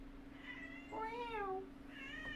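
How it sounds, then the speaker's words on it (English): A house cat meows indoors, two clear drawn-out meows with a rising and falling pitch, close but fairly quiet over a steady low electrical hum. "She's just going to keep meowing, I think."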